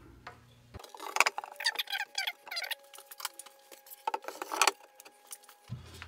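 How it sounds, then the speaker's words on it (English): Wooden shelf boards slid into place on industrial pipe shelving, making a quiet run of clicks, knocks and scraping rattles, close up and with no voices. "just slide the boards in place."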